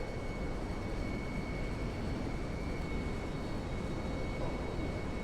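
Steady, loud drone of an A-10 Warthog jet flying on one engine with half a tank of fuel, approaching Inverness for touch-and-go landings, heard from inside as a continuous broadband roar with a faint high whine.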